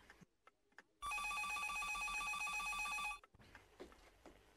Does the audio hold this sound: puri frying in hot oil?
no